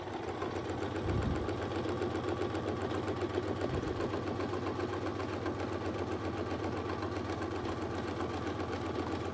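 A sewing machine stitches quilted curls along Westalee Curly Q ruler templates, its needle chattering in a fast, steady mechanical rhythm with a couple of brief low thumps, running close and continuous.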